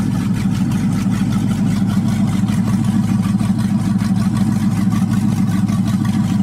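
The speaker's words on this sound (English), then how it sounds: "cold starts are so much awesomer when you have a fuel injected LS motor" A fuel-injected 5.3 LS V8 swapped into a Pontiac Firebird idles steadily after a cold start, a loud, close, continuous low rumble with a fast even pulse and no talking.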